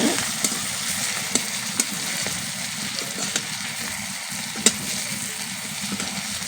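Prawns fry in bubbling oil in a kadai, a steady close hiss and sizzle with occasional sharp pops and clicks of stirring, no talking.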